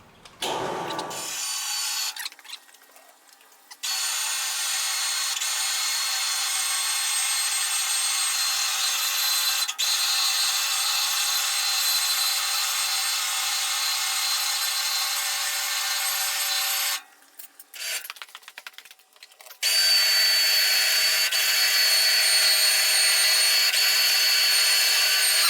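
A winch whines steadily as it drags an accident-damaged Classic Mini 1100 Special Convertible, a loud continuous mechanical drone that pauses briefly near the end with some clunks before resuming.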